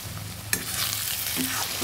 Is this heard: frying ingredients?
yes